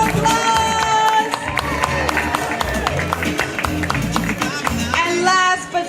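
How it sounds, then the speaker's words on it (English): An audience at a school parade applauds and cheers for the grade 5 class, with sharp claps over cheering voices and music, fairly loud and close. "Let's give grade 5 a round of applause."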